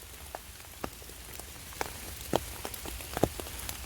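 Heavy October rain falls on mushroom ground, a dense, steady patter with individual drops striking nearby surfaces in sharp, irregular taps.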